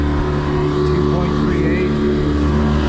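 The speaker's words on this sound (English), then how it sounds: "And there's your kicker motor. See what it does." A small kicker outboard motor on a 22-foot open center-console boat runs steadily, giving a loud, continuous engine drone with a faint voice partly under it.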